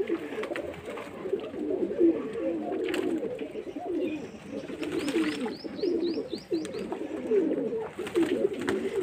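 Pigeons coo steadily and close by while bathing and sunning in a small enclosure, with low continuous cooing and a few faint chirps over the whole stretch.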